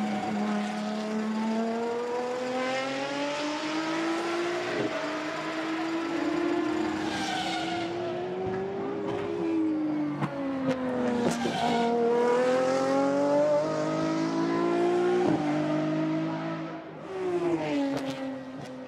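A Lamborghini SCV12 track-only race car's V12 engine howls at close range, rising and falling through gear changes as it laps a circuit during a GT1 demonstration race, with no talking.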